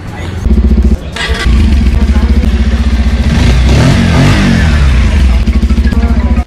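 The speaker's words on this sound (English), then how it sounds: "let's check out the exhaust note, which is also, you know," Bajaj Pulsar 150 BS6 twin disc motorcycle exhaust, close and loud: the engine catches and idles with a throaty, bassy pulsing, then revs up and settles back, thumping steadily until it cuts off.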